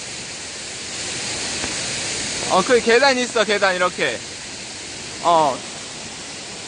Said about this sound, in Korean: 여기가 소정방폭포.